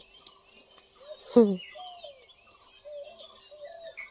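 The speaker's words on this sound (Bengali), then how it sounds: "দেখো পাখিরা কেমন চিৎকার চেঁচামেচি করছে" Birds chirping and calling outdoors on a cool day after rain, with scattered thin tweets throughout and one louder, fuller call near the middle.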